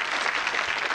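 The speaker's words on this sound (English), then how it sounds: "Hey, while you're applauding" Brisk studio audience applause on a British television game show, dense and steady through a short burst, with no voices over it.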